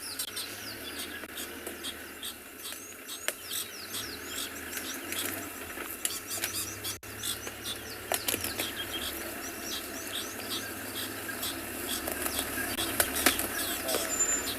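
Sharp, repeated drongo alarm calls ring out against a busy outdoor background of chirps in the South African bush, with occasional louder bursts throughout.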